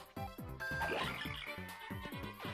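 In Paper Mario: The Thousand-Year Door, the hammer gives off a cricket-like sound effect: rhythmic, croaky chirps repeating in quick bursts against a bright musical background.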